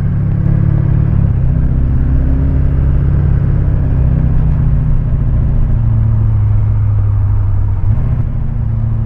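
Duramax diesel truck with a 5-inch MBRP straight pipe exhaust, a deep steady low grumble at low RPM with small swells in pitch, loud and close without any voices.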